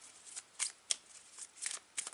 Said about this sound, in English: I'm going to shuffle 2 oracle cards for you